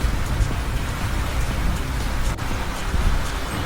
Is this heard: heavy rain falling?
yes